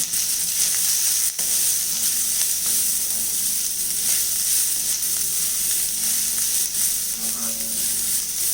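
Shredded cabbage sizzles steadily in a hot pan while being stirred and sautéed with poha and vegetables, a continuous close frying hiss with a few scraping stir strokes and no talking.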